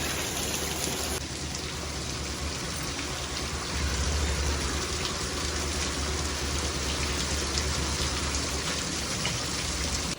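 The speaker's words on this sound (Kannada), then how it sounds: "ಮಳೆ ಬೇರೆ ಜೋರಾಗಿ ಬರ್ತಾ ಇದೆ." Heavy rain pours down steadily and loudly throughout, a dense continuous wash of falling water with no voices, growing slightly heavier partway through.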